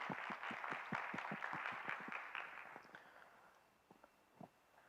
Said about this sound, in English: Everyone, let's welcome him with a big round of applause,